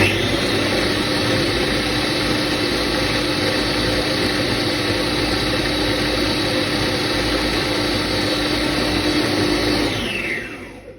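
Kitchen blender whirring loud and steady while blending hummus with a splash of hot water, a continuous motor drone that winds down and stops at the very end.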